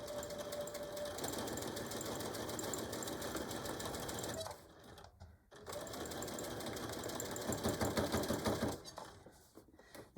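An electric sewing machine stitches a beach or diaper bag in close, fast, rhythmic bursts. It runs steadily, stops briefly, changes direction for a back stitch and then runs again, with no one speaking.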